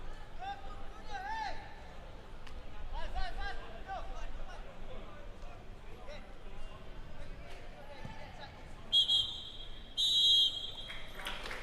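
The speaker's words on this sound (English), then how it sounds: "There we have the halftime whistle from Shadiq Al Hussein." Referee's whistle blowing for halftime at a Singapore Premier League football match, Tanjong Pagar United against Hougang United, two short shrill blasts near the end over steady crowd murmur and commentary.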